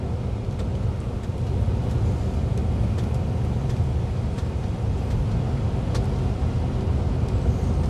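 A truck idles and crawls in a traffic jam, heard as a steady low engine rumble with road noise from the cab, continuous and even throughout, with faint clicks now and then and no talk.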